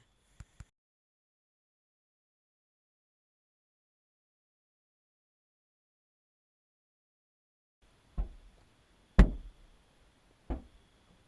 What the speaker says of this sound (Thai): สียงมันคนเคาะหลังคารถเลย